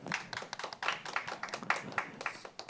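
A small audience at a social-work policy panel claps for the panelists, light scattered applause at a distance, brief and fairly faint.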